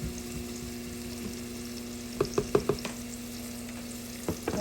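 Onions sauteing in a pan with a soft, steady sizzle under a low hum, broken by a quick cluster of light taps and clinks from stirring, then a couple more near the end.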